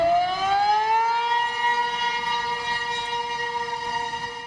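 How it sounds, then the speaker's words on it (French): A loud, sustained wailing municipal tornado warning siren holds a steady rising-then-level tone, droning continuously like an outdoor civil warning siren with no voices. "Ces sirènes municipales au bruit retentissant indiquent l'urgence d'aller se réfugier dans les abris."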